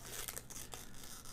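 Protective film peels off a Logitech G502 Lightspeed gaming mouse with a soft, close, continuous crinkly tearing over faint background hum, with several small crackling bursts along the way.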